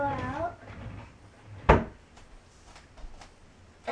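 A wooden dresser drawer slides and shuts with one sharp knock midway, with faint rattles after, and a person speaks briefly at the start.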